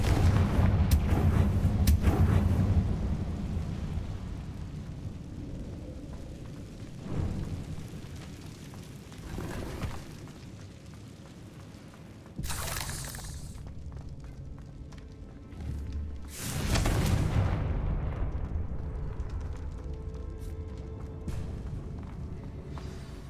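Confringo curse blasts in Hogwarts Legacy, several separate booming explosions spread apart over a rumbling game soundscape, with the sharpest bursts coming late.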